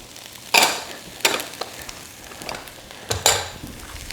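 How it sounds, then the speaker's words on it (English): Onions and mushrooms sauté in a pan for a mac and cheesesteak, with a steady low sizzle broken by three loud, crackling bursts as the pan is stirred; no voices. "Now you're going to saute this for about 6 to 8 minutes"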